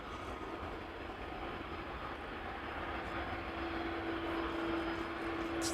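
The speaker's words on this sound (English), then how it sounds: "It's actually remarkable how little you hear from such a big airplane spooling up from behind." A large airliner's engines spool up for takeoff at Amsterdam Schiphol Airport, heard from behind as a subdued, steady broadband roar with a faint rising tone, fairly distant and without talk.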